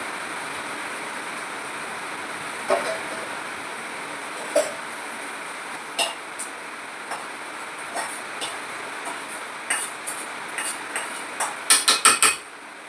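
Rain drumming on a metal sheet roof in a village kitchen, a steady wash with sharper metallic taps and knocks scattered throughout and growing thicker toward the end.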